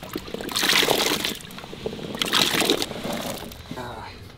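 Water splashes and pours in two bursts into a pot of elephant foot yam pieces, with a brief pause between pours.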